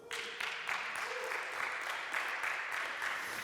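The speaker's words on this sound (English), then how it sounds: "You can applaud." An audience at a conference talk claps with dense, steady applause for a few seconds, moderately loud and continuous without voices.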